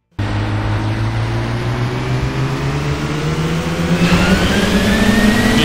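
A GT Line car engine in the City Racing 3D mobile street-racing game starts abruptly and revs loudly, its pitch climbing steadily as it accelerates, with a harder surge toward the end.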